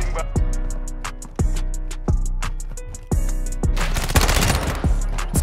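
Rapid bursts from the ISO 45 submachine gun in Modern Warfare 2, loud close-range automatic fire with short pauses between strings of shots and a dense sustained volley near the end.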